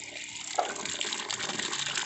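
Water gushes steadily into a mix of duck and Muscovy duck feed made with taro leaves, a continuous close pour lasting a couple of seconds with no talking.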